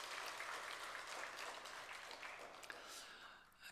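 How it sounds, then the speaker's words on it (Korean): Congregation applauding during a Sunday church worship service, a steady dense wash of clapping that holds for several seconds and slowly thins toward the end. "우리 영광 받으신 주님께 감사의 박수 올립시다."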